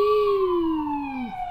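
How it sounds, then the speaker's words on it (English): An ambulance siren in a video game holds one sustained, loud wailing tone that slowly slides downward and then drops off sharply at the end. "Why is there an ambulance here?"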